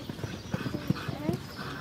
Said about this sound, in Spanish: En pista, caballo Santana, montado por Ricardo Arrán de Villapadierna.